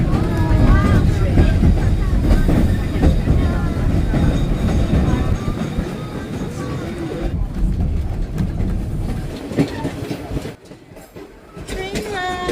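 A White Pass railroad train rolling along near Skagway, with steady rumbling and rhythmic wheel clatter running loud throughout, while passengers talk over it close by.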